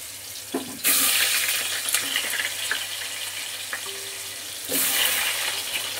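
Potatoes for chicken kofta curry drop into hot oil and burst into a loud, hissing sizzle that settles into steady frying, then surges again near the end.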